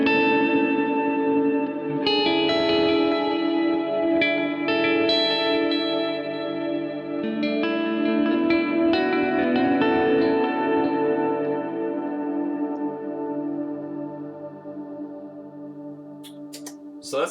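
An electric guitar plays sustained chords through a Strymon Flint reverb pedal on a pedalboard rig, with notes washing into a lush, shimmering tail that fades toward the end.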